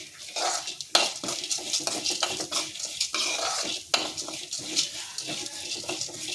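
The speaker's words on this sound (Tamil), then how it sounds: "எண்ணெய் காஞ்சதுக்கப்புறம் துவரம்பருப்பு போட்டு, இதுக்கு தேவையான துவரம்பருப்பு போட்டு அதை வறுக்கிறாங்க" Toor dal roasts in hot oil while a metal spoon scrapes and stirs against the pan, giving a busy run of clinks and scrapes over a soft sizzle, close and fairly loud.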